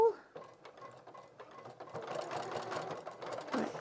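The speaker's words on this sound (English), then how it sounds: "I'm going to sew on the diagonal" A sewing machine stitches diagonally across a polo placket, with a quick, soft rattling patter that starts faint and builds to steadier running, close and clear with no talk.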